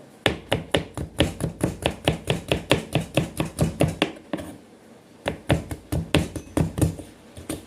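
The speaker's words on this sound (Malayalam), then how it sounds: "ചെറുതാക്കി അരിയാ" A knife chops nutmeg into small pieces for pickle. Quick, crisp, evenly spaced strikes sound close by, then stop for about a second before the rhythm resumes.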